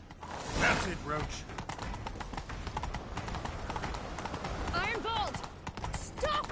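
Roach, a horse in The Witcher 3, gallops in a chase with steady, loud hoofbeats throughout, a few neighs and voices talking over it.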